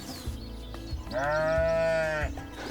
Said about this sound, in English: So Simon actually was a bottle-fed goat.